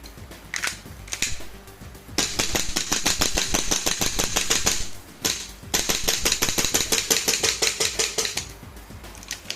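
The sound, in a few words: shots from 1911 Hi-Capa airsoft pistol with JLP recoil buffer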